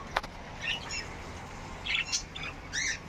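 Lovebirds give several quick, high chirps in short bursts, fairly close, over a soft background hiss.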